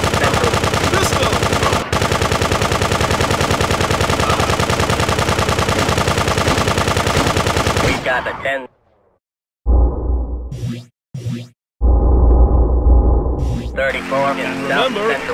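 Gunfire in the top-down video game GTA 2, a dense continuous barrage of rapid shots with game music, followed by a gap and then shorter loud bursts with brief silences between them.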